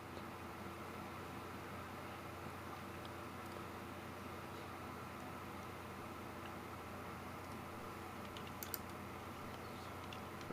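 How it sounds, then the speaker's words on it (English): Loud computer keyboard typing produces a steady stream of fast clicks against a constant fan-like hiss, close to the microphone, with no talking. "my keyboard clicks are real loud"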